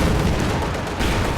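Panzerschreck anti-tank rockets from a blob of grenadiers firing in Company of Heroes 2, a dense, continuous barrage of loud battle booms and gunfire that fills the whole stretch with no pause.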